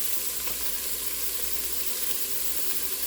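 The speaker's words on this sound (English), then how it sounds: "make sure that chicken is nice and seared on all sides" Chicken pieces searing in an enameled cast iron Dutch oven for a stew give off a steady, dense sizzle, close and loud, with one brief crackle burst near the start and no voices.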